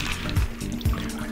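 A Sable Kiss cocktail is poured from a frosty, chilled shaker, a close liquid stream trickling and splashing steadily, broken by a few low gurgling pulses, with no voices.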